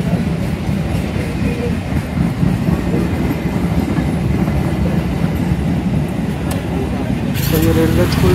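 A train rolls past a closed railway gate, a steady loud rumble of wheels and carriages filling the whole stretch, with traffic noise and a brief horn-like sound near the end.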